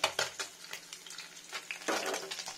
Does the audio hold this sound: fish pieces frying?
yes